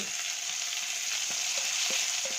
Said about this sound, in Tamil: நல்லா வதங்கின உடனே 3 முட்டையை உடச்சி ஊற்றியாச்சு